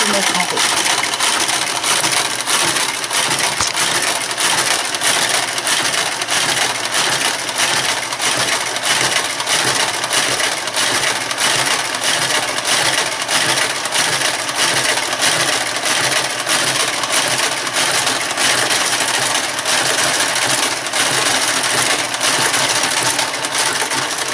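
A Brother KH 940 knitting machine carriage clatters steadily in a continuous, dense mechanical rattle while knitting a row, with a voice speaking faintly beneath it.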